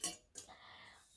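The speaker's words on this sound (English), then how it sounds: "So I found some serving spoons, a whisk." Metal serving spoons, a whisk and a saucepan being handled, giving a quick bright clatter at the start and a second clink a moment later, with a faint metallic ring trailing off. No one speaks.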